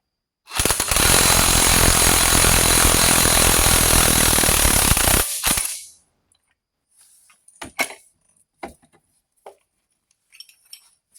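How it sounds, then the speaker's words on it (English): A loud, continuous rattling hammer of an impact wrench breaking a bolt loose runs for about five seconds, then stops abruptly, followed by scattered metallic clinks and small knocks. "Get your impact or whatever you're using to break it loose."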